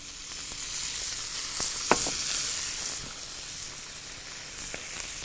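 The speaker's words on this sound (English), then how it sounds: "if you want to put a little bit of the marinating oil on top of your livers" Chicken livers cooking with marinating oil and lemon, with charred Vidalia onion nearby, give a steady, close sizzle and hiss, broken by a few faint pops and scrapes.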